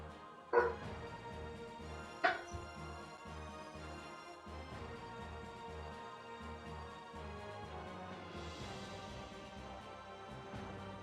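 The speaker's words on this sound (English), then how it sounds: "No barking!" A dog barks twice indoors, two sharp, separate yaps over a steady background hum, quite faint and some distance away.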